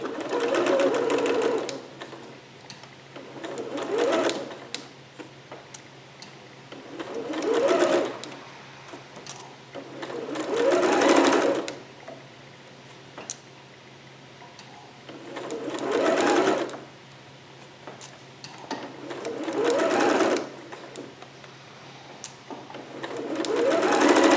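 A home sewing machine stitches a Vogue pattern garment in short bursts of about two seconds each, six or so runs separated by brief pauses, close and moderately loud, with faint cooing birds in the background.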